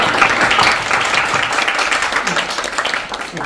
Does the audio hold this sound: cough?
no